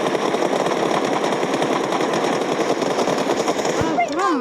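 Rapid automatic gunfire rattles continuously in a 1v1 video game match, loud and dense, with a voice briefly heard over the shooting.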